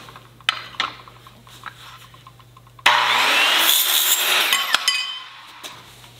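A Diablo Steel Demon 7 1/4-inch cermet circular saw blade cuts 1/16-inch steel: faint scraping and clicks, then a loud, harsh, high-pitched grinding burst lasting about two seconds that fades as the cut ends.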